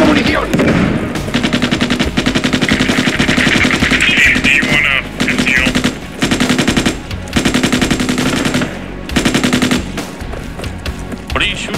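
Sustained machine gun fire in the military shooter game Squad, rapid bursts rattling almost continuously with brief pauses, loud and close, with faint voices in the background.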